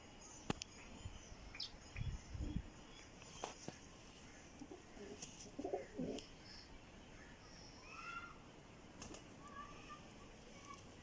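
Pigeons coo in soft, scattered low phrases at a coop of high-breed flying pigeons, quiet and intermittent against a faint background with occasional other bird chirps.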